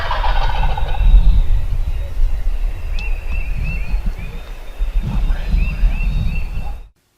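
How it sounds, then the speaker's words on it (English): A wild turkey gobbles close by in the woods, its rattling calls repeating through the middle of the clip over steady low outdoor rumble, with no one speaking. "we hear one gobble, and he's right there on top of us."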